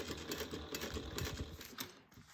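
Sewing machine back stitching a bag, a fast steady needle chatter running close and moderately loud, easing off at the end with no talk.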